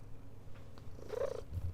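A house cat purrs close by, a soft low rumbling that flutters unevenly, with a brief brighter murmur midway before the purr deepens again toward the end.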